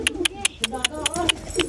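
Pigeons coo among a string of sharp, rhythmic clicking bursts roughly every fifth of a second, with faint voices in the background.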